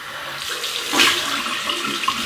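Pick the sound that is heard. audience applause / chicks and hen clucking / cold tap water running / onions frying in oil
cold tap water running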